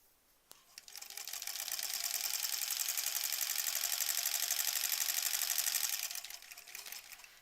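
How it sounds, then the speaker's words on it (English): A sewing machine stitches a bunny stuffed toy in one steady run. The close, even mechanical whirr holds for about five seconds, then slows and stops, and no one speaks. "we sewed from the tail onto that short side around the foot and to the top here"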